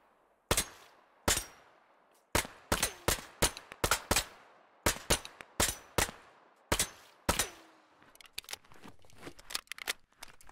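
Gunfire in the video game Operation: Harsh Doorstop: loud, sharp single and double shots in irregular bursts with brief echoing tails, ending in a run of quicker, lighter clicks and taps.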